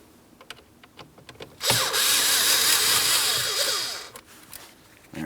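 On a Ford Transit, a power tool backs out small T8 Torx screws. A loud, steady whirring burst lasts about two and a half seconds, with light handling clicks before and after.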